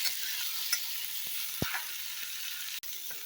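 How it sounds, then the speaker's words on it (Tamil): Four Kashmiri chillies fry in a pan for chana masala, with a dense, even sizzle held close throughout and one or two soft knocks, and no voices. "காஷ்மீரி மிளகாய் ஒரு 4 மிளகாய் சேர்த்துட்ருக்கேன். நல்லா ஃப்ரை பண்ணிக்கலாம்."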